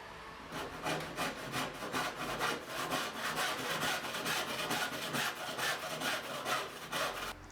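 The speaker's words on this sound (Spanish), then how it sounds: "Coloco el serrucho justo sobre la línea de cuchillo y trato de seguir el ángulo sobre la cara de la madera" A handsaw cuts wood along a knife-marked line while a traditional tool chest is made. Steady rhythmic rasping strokes come close and clear for several seconds, with no voices.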